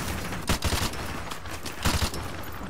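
Gunfire in Call of Duty Modern Warfare Remastered: dense, loud bursts of automatic fire with heavy low thumps, two clusters of rapid shots around sustained battle noise.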